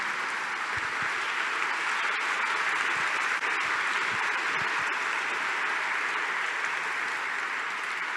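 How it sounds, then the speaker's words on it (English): An audience claps at the close of a talk at RustConf 2024, a dense, even, sustained round of applause with no talking over it. "please clap for all these people"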